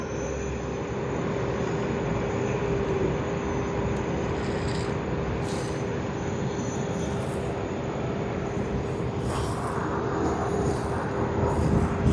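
An airplane at Sydney Airport heading toward runway 34L, heard as a steady, broad engine roar that holds throughout, with a few faint higher chirps near the end.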